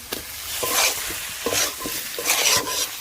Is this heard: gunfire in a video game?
no